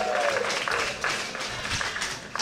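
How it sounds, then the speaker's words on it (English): Audience at a Chicago mayoral candidate forum applauding steadily, a dense wash of clapping hands in a warm room, with a few brighter individual claps and faint voices mixed into the crowd noise. "Make some noise for yourselves. Clap it up, clap it up"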